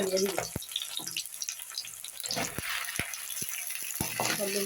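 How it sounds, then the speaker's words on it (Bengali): Onions and chillies sizzling in a hot pan as okra is fried alongside them, a soft, continuous crackle with sharp clinks of a spatula against the pan at irregular moments, heard up close. "ভেন্ডি বাজি বসাই দিলাম দেখেন পেঁয়াজগুলো আর মরিচগুলো বাজি করে নিতেছি"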